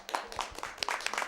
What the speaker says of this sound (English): One more round of applause for Schtolteheim and Zwei.